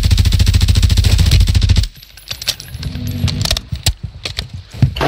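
Rapid video-game gunfire rattles loud and continuous for about two seconds, then cuts off abruptly as the ammo runs dry, leaving scattered clicks, pickup clinks and faint game effects.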